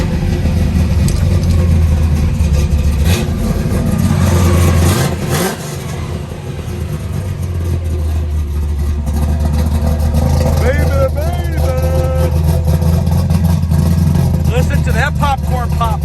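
A 1968 Chevrolet Camaro engine starts and idles loudly up close, with several throttle blips and revs rising and falling, while someone talks over the running motor.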